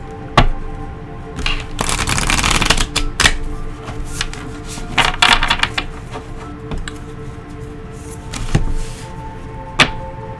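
A White Light Oracle tarot deck is shuffled by hand, with loud, close riffling bursts and sharp card taps at intervals.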